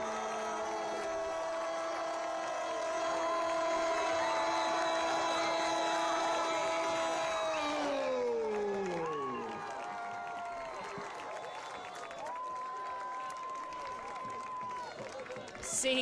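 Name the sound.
home crowd cheering after late soccer goal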